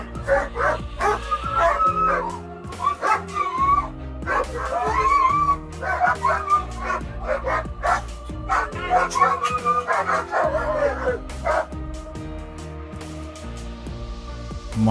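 Dogs bark, yip and whimper excitedly in quick overlapping bursts, close and loud, settling toward the end.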